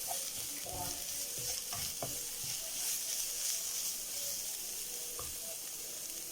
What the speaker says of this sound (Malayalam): ഇത് 2-3 മിനിറ്റ് ശേഷം മൂടി മാറ്റി വീണ്ടും ഒന്ന് ഇളക്കി കൊടുക്കാം